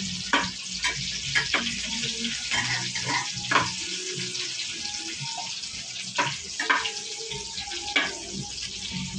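Garlic and ginger frying in a little oil in a pan, a steady close sizzle with scattered spatula scrapes and occasional water-like splashes running throughout.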